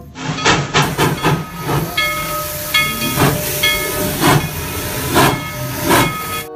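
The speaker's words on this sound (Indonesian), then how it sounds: "Kereta Thomas." A toy Thomas train plays steam-engine effects, rhythmic chuffing hisses with a tonal whistle-like chime running through, loud and close with no talk.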